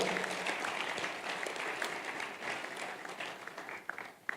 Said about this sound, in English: Come on, clap for yourself, everybody.